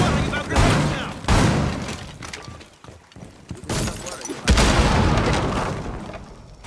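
An impact grenade detonates in Rainbow Six Siege, producing several loud, sharp blasts amid game noise and chatter, while players talk over the action throughout.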